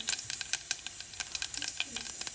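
Mustard seeds crackle and sizzle in hot oil in a pan on a low gas flame, a quiet run of fast, sharp pops over a steady hiss.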